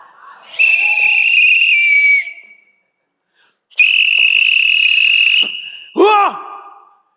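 Two long, piercing whistle blasts with a pause between them, followed by a quick warbling trill.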